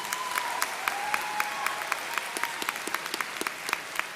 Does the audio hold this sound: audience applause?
yes